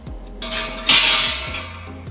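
Metal cement mixer blades are picked up and handled, producing clanks and metallic clinks in a couple of bursts at close range, alone without talk.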